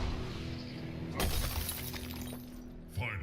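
A sharp shattering crash from a Mortal Kombat X shatter finisher bursts out suddenly, with a second smaller hit near the end. Commentators talk over it during a tournament match.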